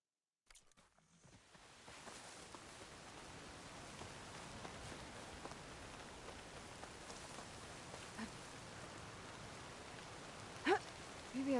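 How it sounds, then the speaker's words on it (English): Steady rain in the game Horizon Forbidden West on PS5, a dense, even patter that builds from silence and holds, with a couple of faint brief clicks near the end. "No escaping this rain."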